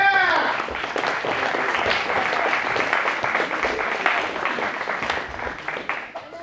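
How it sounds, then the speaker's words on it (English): An audience at a cosplay pro wrestling show applauds, a dense roar of clapping with sharp individual claps and some crowd voices, starting loud and gradually thinning toward the end. "Give them a round of applause."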